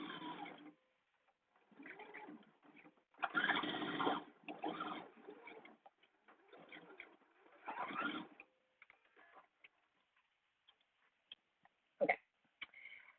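Sewing machine stitching blouse seams, several short motor-driven bursts of rapid needle whirring separated by pauses, close and clear, with no talk.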